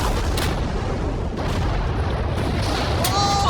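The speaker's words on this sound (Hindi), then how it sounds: "ये एक बहुत ही बड़ा धमाका होने वाला है।" A huge boom bursts out as a Lamborghini meets the world's largest shredder, a loud broadband rumble filling the short span with a brief bright tone near the end.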